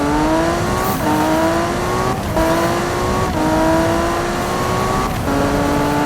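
A 1100HP Toyota in Need for Speed 2015 accelerates hard, engine revs climbing steeply through several gears with brief dips at each shift, loud and close with no talk.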